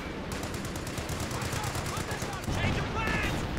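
Rapid machine-gun bursts and rifle fire in the World War II strategy game Company of Heroes 2, a continuous crackling fusillade of moderate loudness with a commentator talking over it.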